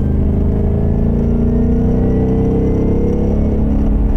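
A Ford Mustang Bullitt being driven, heard from inside as a steady loud low engine drone and road rumble with a slowly rising pitch, continuous and close, with no talk.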